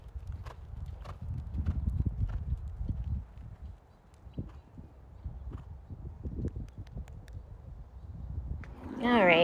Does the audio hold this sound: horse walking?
yes